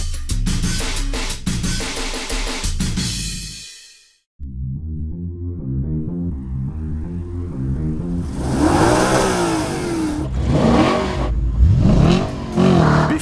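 An Audi RS5 coupe from Quattro GmbH revs loudly in quick bursts, pauses in near silence, then accelerates hard with a rising, sustained engine howl that builds to a roaring climax.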